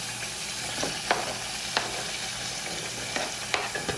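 Onions fry in a pan with a steady close sizzle, punctuated by several short scraping clicks of stirring spaced unevenly, over a faint low hum, with no speech.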